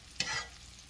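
Bacon frying in a pan for hot German potato salad, one brief close scrape as it is stirred, then a faint steady sizzle.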